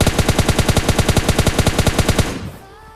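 An M416 rifle fires in the mobile shooter PUBG Mobile Lite, a loud, close, rapid string of about twenty evenly spaced shots that stops abruptly and leaves a short fading tail.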